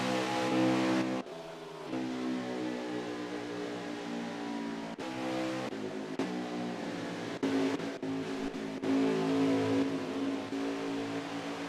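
Race cars in a Backwoods Racing League event at Auto Club, heard as a steady engine drone with harmonic whine, the pitch and loudness shifting as cars pass and pull out of pit road, no voices.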